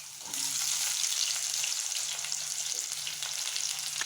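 Small onions, red chillies and curry leaves sizzle and fry in hot oil for tamarind rice, a steady close crackling hiss with faint stirring, no voices.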